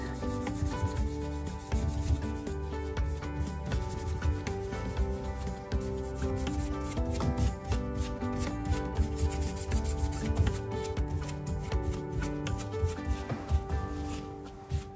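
Rub 'n Buff finish being rubbed onto a sink, a continuous close scrubbing and rasping with rhythmic strokes, fairly loud and steady throughout, with no talking.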